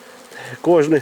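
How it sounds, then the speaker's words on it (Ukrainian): A close, loud buzzing of swarming honeybees at an apiary swells and wavers, the droning pitch rising and falling in a brief burst. "І я бачу ось такий наліт бджіл"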